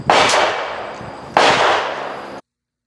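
Two sharp shots from a Smith & Wesson 659 9mm pistol at a range ring out about a second apart, each loud and close with a long echoing tail.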